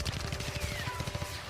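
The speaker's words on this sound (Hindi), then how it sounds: "एक के बाद एक गोलियां दोनों तरफ से चलती जा रही थीं" Rapid gunfire from a cartoon border battle between soldiers, with shots exchanged from both sides: a dense fusillade of loud, close, evenly repeating bursts that fills the whole moment with no voices.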